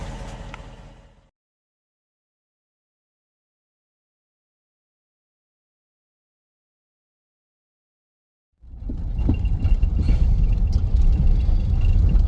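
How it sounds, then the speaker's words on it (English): A car rolls over rocks on a dirt road through a wildlife management area on Rapidan Road, Virginia, producing a steady, loud, low rumble of tires and engine that starts abruptly after a stretch of silence. "so now we can get back in the car, get going"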